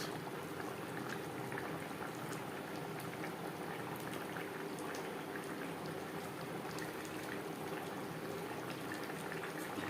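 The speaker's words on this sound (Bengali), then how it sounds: "গ্রেভি ফুটে ওঠা পর্যন্ত অপেক্ষা করব তিন চার মিনিট" Chitol fish curry gravy with potato and cauliflower boiling in a pot, a steady, dense bubbling that holds at an even level from start to finish with no voices.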